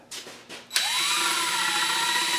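A cordless drill spins up sharply and runs steadily at high speed, boring holes in a mini bike engine mount for a Predator 212 Baja; a few faint scrapes come first, then a continuous loud whine without talk.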